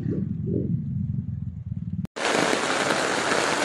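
A low rumbling wash gives way, after a brief cut, to a loud, dense hiss of heavy rain pouring steadily nearby during flooding in Metro Manila.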